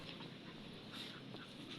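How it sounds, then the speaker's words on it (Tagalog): A dog outdoors among chili and okra plants, heard faintly for a moment as a soft whimpering, panting sound at low volume. "May aso eh."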